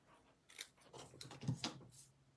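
Scissors snip through a die-cut paper pine cone piece in a few quiet, separate cuts, close up and with no talking.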